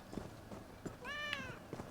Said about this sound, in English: They named all the cats and dogs Chase's Kittens